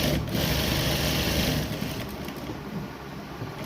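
Sewing machine stitching fabric for a small Laddu Gopal doll dress, a steady close whirring run that eases slightly softer toward the end, with no talking.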